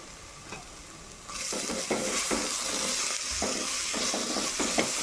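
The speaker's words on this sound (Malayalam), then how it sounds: "അപ്പം നമുക്ക് ഈ തക്കാളി അതിലേക്ക് ഇട്ട് കൊടുക്കാം." Tomatoes tipped into sautéed onions frying in a pan for chickpea curry, a sudden burst of loud sizzling that settles into a steady hiss, broken by repeated stirring scrapes, close by with no talk.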